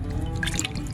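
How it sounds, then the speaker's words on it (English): Ginger being washed in water for a garnish: a short burst of close splashing and dripping from the handling in water, set over a low background rumble. "So for the garnishing, I will wash it in water first."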